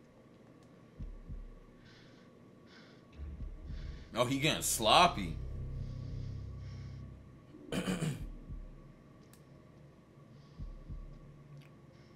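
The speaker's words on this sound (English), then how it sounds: "Ooh, your heartbeat going crazy." A low, throbbing heartbeat pulses in the horror video game The Devil In Me, soft and deep, repeating under tense background hum while a player talks and gasps.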